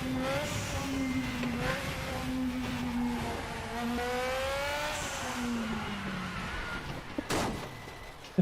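A race car engine under heavy throttle in the RaceRoom Racing Experience sim racing game, droning loud and steady with rising and falling revs throughout, ending with a couple of sharp knocks.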